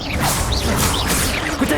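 A fire spell cast in the Hogwarts Legacy video game bursts out with a loud, continuous whooshing, crackling rush that sustains across the whole moment, with no talk over it.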